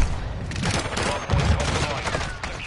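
Rapid gunfire in the Modern Warfare III video game, bursts of sharp shots and thuds packed close together over a short stretch.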